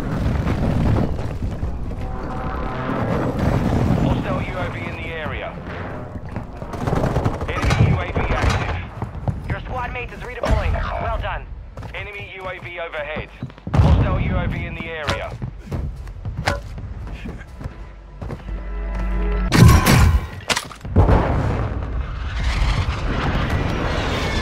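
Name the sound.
gunfire from a building in a Call of Duty-style video game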